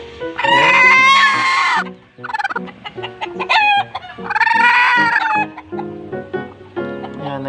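An angry native hen brooding on a clutch of eggs lets out loud, close, harsh clucks and drawn-out squawking calls in repeated bursts, with short pauses between them.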